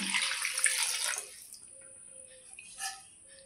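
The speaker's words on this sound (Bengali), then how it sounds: "মাংস আলু দিয়ে দিচ্ছি জল" Water is poured onto meat and potatoes in a pan: a close splashing gush for about a second, then fading to quieter trickles and a drip.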